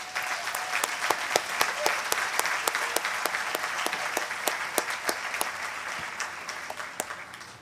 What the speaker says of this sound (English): Let's give a round of applause to our students' families.